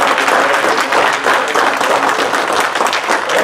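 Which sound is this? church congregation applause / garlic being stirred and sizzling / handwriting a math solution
church congregation applause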